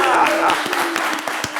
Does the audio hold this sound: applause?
yes